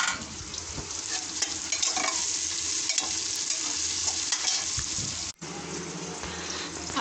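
Jackfruit pieces and spices frying and being stirred in a hot pan, a steady sizzle broken by scraping stirs and clinks, close up with no talking.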